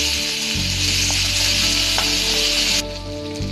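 Curry leaves and coriander hit hot oil in a pan while making Kerala aviyal, with ginger, garlic and asafoetida, giving a loud, steady sizzle that crackles on throughout and eases slightly near the end.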